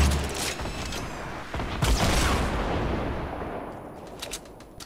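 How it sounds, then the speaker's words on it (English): A grenade launcher firing grenades in a video game: a few loud booming shots and blasts in close succession, heavy and near, ringing out into a fading rumble. "I'm just gonna launch all my grenades."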